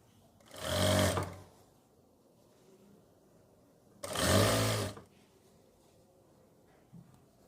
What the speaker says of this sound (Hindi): इस तरह से बाहर निकालते हुए हमने ये वाइट कपड़े के ऊपर सिलाई लगानी है।